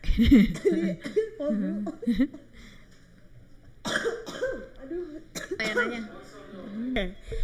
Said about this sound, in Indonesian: Mau batuk bener lo ya.